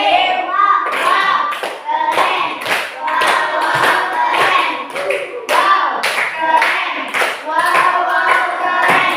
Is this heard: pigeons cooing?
no